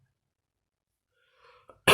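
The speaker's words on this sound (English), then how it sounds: "I have a mild cough," A single short burst of coughing sounds right at the end, loud and close, after near silence and a faint murmur of breath or throat noise.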